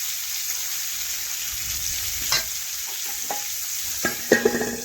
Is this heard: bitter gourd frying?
yes